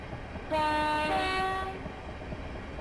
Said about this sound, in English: It's not a very good horn either